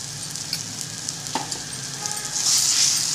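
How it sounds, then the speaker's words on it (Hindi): Amchur powder being mixed into a drumstick bharta in a hot pan, with a steady close sizzle and light stirring scrapes, the frying hiss swelling louder near the end, no voices. "अब इसमें मैं अमचूर पाउडर डाल के मिक्स करती हूँ"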